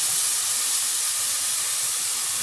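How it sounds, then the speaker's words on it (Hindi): Ginger garlic paste sizzles steadily in a hot pan, a loud, even hiss that holds without a break, with no talking. "अब मैं इसमें ऐड करूंगी अदरक लहसुन का पेस्ट"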